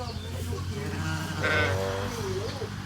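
Goats bleat in a dirt-floored goat and sheep pen, a nanny walking with her kid, calls rising and falling over steady low farm noise, fairly close and moderately loud.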